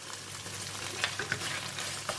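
Kaffir lime leaves fry in red curry paste for a Thai stir-fry of pork belly and long beans, giving a steady close sizzle with a few soft stirring scrapes and no talking.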